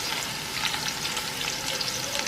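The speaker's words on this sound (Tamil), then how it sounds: "வணக்கும் போது இந்த மாதிரி நல்லா பொரியிற சத்தம் கேட்கணும்." Onions and whole spices fry in hot oil for chicken biryani, giving a loud, continuous close-up sizzle with no voices over it.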